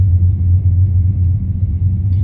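A car passes on a road outside, a loud, steady low engine rumble that holds throughout the short stretch.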